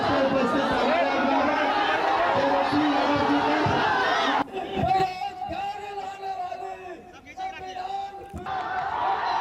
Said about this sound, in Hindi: तेजस्वी यादव की जनसभा में भगदड़ जैसी स्थिति यहां पर बन गई